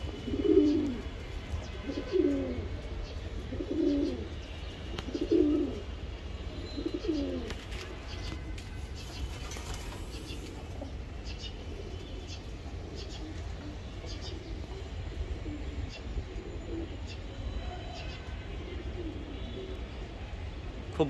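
Racer pigeons cooing in a series of soft, rhythmic low coos over the first several seconds, then fading into a steady background murmur.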